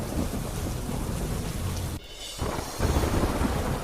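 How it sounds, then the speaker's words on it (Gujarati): Heavy rain pours down steadily in Bhatia, Dwarka, Gujarat, with deep rumbling thunder, briefly dipping quieter midway before the downpour surges back loud and close. "દ્વારકાના ભાટિયામાં ધોધમાર વરસાદ ખાબક્યો"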